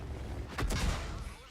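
A tank cannon fires once in the World of Tanks game, a short muffled boom amid battle background noise, fairly faint under commentary.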